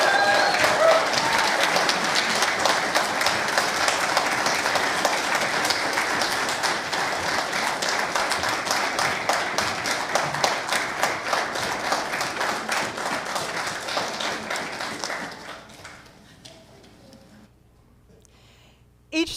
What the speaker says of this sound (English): The rest of us will give heartfelt applause.